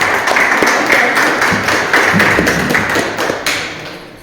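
An audience at an academic seminar claps steadily, a dense patter of applause that swells and fades in waves over a few seconds.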